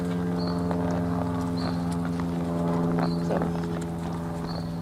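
Horse hooves clip-clopping steadily at a walk as two horses are worked from the saddle, a continuous loud rhythmic plodding over a constant low hum.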